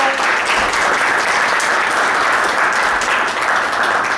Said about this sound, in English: Please stand up, and applaud him